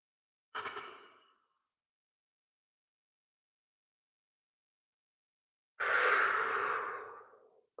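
Two long, audible breaths during a qigong exercise: a short exhale near the start, a pause of silence, then a longer, breathy sigh-like exhale close to the microphone.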